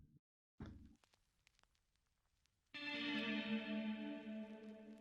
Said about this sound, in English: after that I added a guitar for some reason